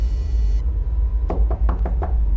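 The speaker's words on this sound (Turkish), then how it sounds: "Kapıyı tıklatıyor." Five quick, evenly spaced knocks rap on a door inside an abandoned university building, loud and close over a low rumbling background.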